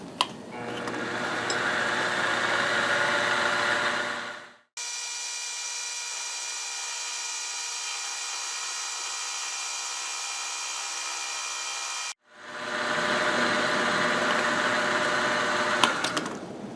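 Metal lathe turning a tool post piece down to final length, a steady machining whir with cutting noise, running continuously apart from an abrupt filtered-sounding middle stretch, with no talking.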